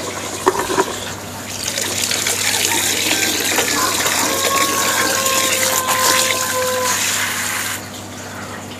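Leftover water poured out of an Aglaonema plant pot, a steady splashing, trickling pour running for several seconds before tapering off, close and fairly loud with no talking.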